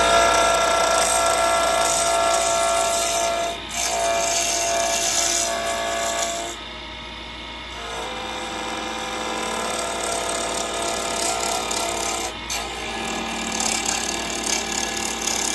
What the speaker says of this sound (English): I'm just going to turn it, sand it, buff it, polish it